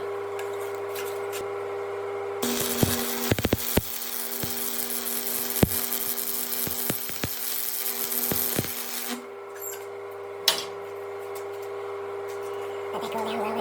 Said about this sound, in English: Just gonna go ahead and weld the other side.